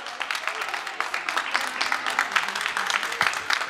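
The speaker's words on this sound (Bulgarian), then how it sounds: "Аплодисменти за нашите актьори от ДМ." Audience clapping for the actors at the end of a children's stage play about saving a baby tooth, a dense, steady applause that continues without a break from start to finish.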